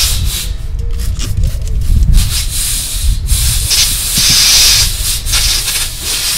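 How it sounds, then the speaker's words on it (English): A steady hissing spray of soapy water around a car engine's turbo boost system during a boost leak test, with rubbing and scraping noises, close and loud, rising and falling in bursts over several seconds. "and you can start to spray"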